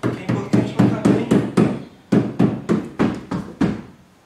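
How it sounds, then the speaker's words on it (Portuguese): A rubber mallet taps a new rubber door seal into place on a Dacia Duster, about a dozen firm, evenly spaced dull thuds close by, each with a short ring, in two quick runs. "vou dar só uma sentadinha com o martelo de borracha, principalmente nessas esquinas aqui"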